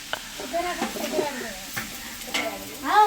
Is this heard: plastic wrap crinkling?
no